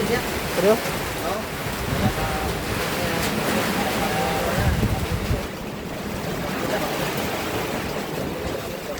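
Strong wind roars and buffets the microphone steadily, with rushing gusts that rise and fall and a few voices faint beneath.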